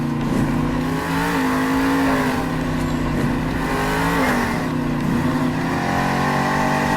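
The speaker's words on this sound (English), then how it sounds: "You can see that monster truck bouncing up and down, but maintaining its balance on those big old BKT tires." A Monster Jam monster truck on big BKT tires bouncing over rough, rocky ground, its engine roaring loud and continuous with pitch rising and falling as it revs, close and without speech.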